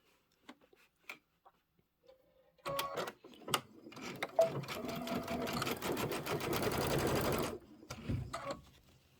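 A home sewing machine stitches a side seam on a Kimberbell Cup of Cheer quilt block with ribbon trim, running in a steady close whir for several seconds after a few light clicks and handling taps.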